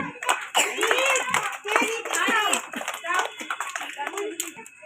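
Children clapping their hands at a school flowers day event, quick scattered claps mixed with lively kids' voices and chatter throughout, close and fairly loud.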